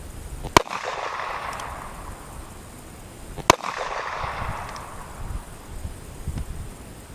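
A Ruger Vaquero .45 Colt revolver with a 4.5-inch barrel, firing 250-grain cast bullets outdoors, sounds as two sharp, loud shots about three seconds apart, each ringing briefly over wind noise.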